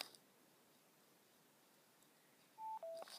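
A Geega S204 wireless Bluetooth headphone set signals power-off with two quick electronic beeps, the second lower in pitch, heard clearly against near silence after a long quiet pause.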